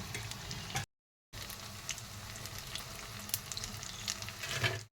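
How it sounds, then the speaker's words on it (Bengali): Close, continuous sizzling of mini potato balls frying in hot oil, with crackles and bubbling, briefly cut by a short silent gap. "আস্তে আস্তে করে আমি এগুলো উল্টিয়ে দিচ্ছি যাতে সব দিকটা ভাজা ভাজা হয়ে যায়।"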